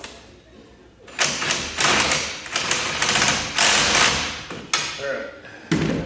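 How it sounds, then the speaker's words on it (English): A wrench tightens brake caliper bolts on a Wilwood front disc brake install, with repeated loud metallic ratcheting bursts and clanks in uneven rhythm, close by. "so I'll put a wrench on these and tighten them up."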